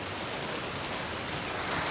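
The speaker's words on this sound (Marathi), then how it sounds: "पाऊस पडतोय आणि गारा पाय गाडीवर कशा दिसतंय उड राहिल्या सगळ्यावर" Rain and hail falling on a parked car, a steady dense hiss of drops drumming on the roof and sunroof with no speech.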